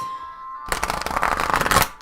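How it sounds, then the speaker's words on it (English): A faint tone fades, then a rapid riffle of oracle cards being shuffled, a crisp fluttering burst of flicks lasting over a second, close up. "I'll give it one more shuffle."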